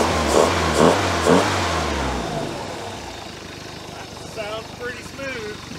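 A 120hp Mercruiser engine in a 1973 Larson boat revs up in a few loud surges and then drops toward idle, while people talk nearby in the second half.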